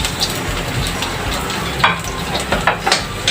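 Onions hit hot oil in a pan for home-cooked lumpiang hubad, giving a loud, steady close sizzle with a few brief crackles and spatters, and no voices.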